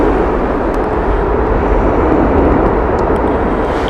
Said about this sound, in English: TAP Air Portugal with the Airbus A320 inbound.